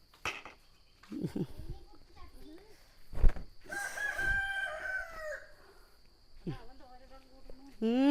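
Chickens in a yard give several clucks and drawn-out crowing calls at close range, broken by pauses, while people talk nearby.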